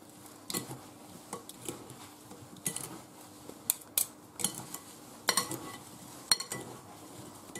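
A utensil stirring chopped peaches with sugar and cinnamon in a bowl, producing irregular clinks and scrapes against the dish, close and moderately quiet, with no talk.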